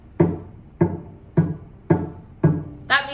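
Cello string bowed without the finger pressed down hard, giving five evenly spaced, fairly loud notes with a rough, buzzy edge, each fading quickly, then a brighter, thinner final tone.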